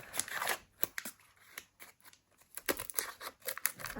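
A Match Attax football card packet being torn open, a busy run of crinkling foil and paper rips with short crackles, close and fairly quiet, no voices.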